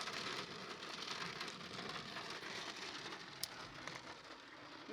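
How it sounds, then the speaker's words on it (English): Heavy rain pours down at a mountain campsite in Mammoth, a dense steady hiss of drops on surfaces, fairly soft and continuous with one small tap near the end. "Suddenly it was pouring rain and none of us were really prepared for this type of weather."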